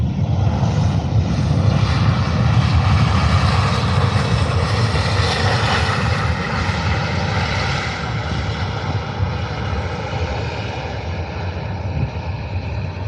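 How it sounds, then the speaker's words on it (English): Ryanair airliner from Milan at Faro airport, its jet engines roaring steadily and loudly throughout, a broad continuous rumble that swells slightly early on then holds, with no voices. "So Ryanair from Milan."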